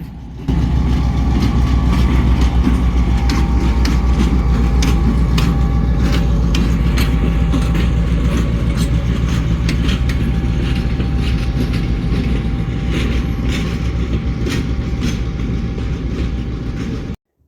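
A train returning with a hopper car in Pennsylvania rumbles steadily and loudly, a dense low mechanical drone with faint rattles and squeaks that holds throughout before cutting off at the end.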